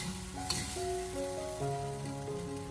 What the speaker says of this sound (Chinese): 然后再继续的大火快速翻炒均匀，把料汁给它翻炒至充分的化开